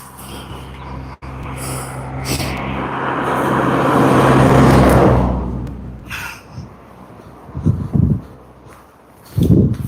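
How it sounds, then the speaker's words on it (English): A car passes on a narrow country road, its rushing tire and engine noise swelling from far off to a close peak and then fading away, with a few soft scuffs and bumps afterward. "Hang on, there's a car coming."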